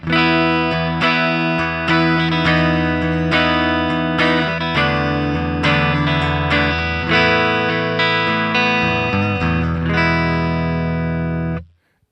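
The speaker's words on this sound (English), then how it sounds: "I'd like to add a compressor into the chain, push the gain up by about 5 dBs" Compressed electric guitar through a clean amp model on a Line 6 Firehawk FX, gain raised about 5 dB, steady even strummed chords with sustained, level volume throughout, ending in a sudden cutoff; no talking.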